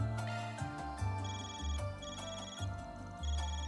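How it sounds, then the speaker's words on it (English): An in-game Zypha phone rings in Trails Through Daybreak, playing a melodic electronic ringtone of repeating chiming notes over a low synth backing. "Your Zypha's ringing"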